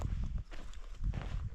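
Wild horse hooves strike the ground outdoors in a few heavy, uneven clip-clop thuds, fairly close and loud against faint background noise.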